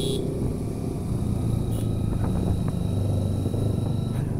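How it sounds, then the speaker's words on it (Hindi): A Yamaha R15 motorcycle engine rumbles steadily during a Sunday group ride in the Bagru Hills, a constant close low drone with no pauses. "तो R15 का आवाज मस्त है, काफी ज्यादा मस्त मस्त लग रहा है,"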